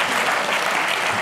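Audience applause at a political satire event in Reinickendorf, Berlin: dense, steady clapping from a crowd, loud and continuous throughout with no break.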